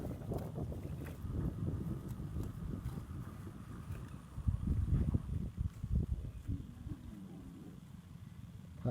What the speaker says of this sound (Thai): บรรยากาศเย็นๆลมพัด ยามแรงๆพี่น้องเอ้ย